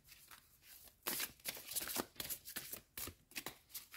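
A deck of oracle cards shuffled by hand, giving repeated riffling bursts of card-on-card flutter at close range, quiet and uninterrupted by talk.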